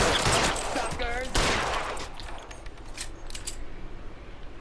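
Shotgun fire in the L.A. Noire video game: a sharp blast or two up front amid gunfire clatter, fading into quieter ambience, with a voice briefly present.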